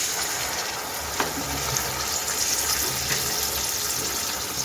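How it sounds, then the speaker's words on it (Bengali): A small splash of water hits fried onions in a hot pan, raising a steady, close sizzling hiss with a couple of brief spatters while a Bengali chana dal is being cooked. "এখন আমি অল্প একটু জল দিয়ে দিচ্ছি"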